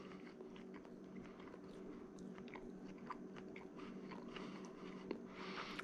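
Crispy pizza crust from a 7-day-old sourdough dough being bitten and chewed close up, soft scattered crunches over a steady quiet background hiss.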